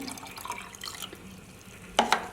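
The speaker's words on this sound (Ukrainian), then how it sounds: "Я додаю цей розчин ще до пів літра води" Calcium nitrate fertilizer solution is poured into half a litre of water, giving soft trickling and faint splashes, then two short, sharper liquid splashes near the end.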